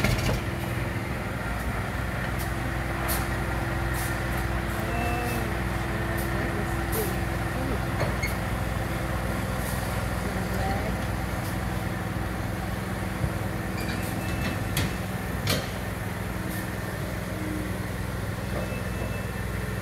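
A truck hauling a modular home trailer during delivery works through a downshift, its engine a steady low rumble that runs throughout with continuous road and mechanical noise, while people talk nearby.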